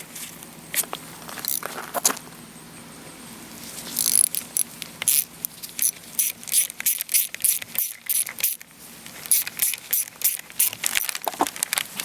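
A bolt is fitted into a Ford starter during a rebuild, with a run of rapid metallic ratcheting clicks and clinks up close, growing denser toward the end.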